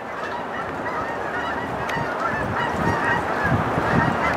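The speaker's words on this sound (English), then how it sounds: "There are the birds." A flock of geese honks continuously at a distance, overlapping calls over a steady outdoor background, with no talk.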